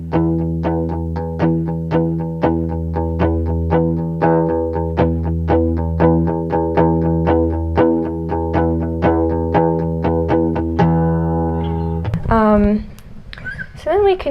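Guitar notes with a loosened palm mute ring a bit longer in a steady repeated pattern for about twelve seconds, then a voice speaks briefly at the end.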